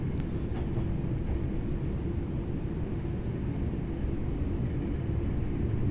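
A Class 323 electric multiple unit runs in a train simulator game on the Birmingham New Street to Wolverhampton line, giving a steady, loud, continuous low rumble with no voices.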